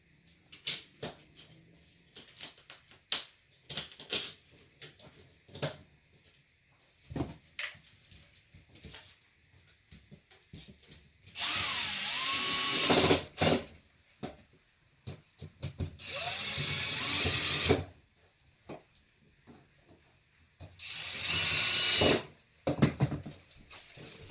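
A power drill drives screws back into a bearded dragon enclosure in three bursts of a few seconds each, close, with scattered clicks and handling knocks between them.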